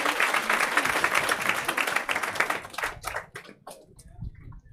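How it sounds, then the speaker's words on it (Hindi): An indoor seminar audience claps to welcome a teacher, dense applause for about three seconds that thins into scattered individual claps before fading. "आ जाओ ताली बजाओ रे।"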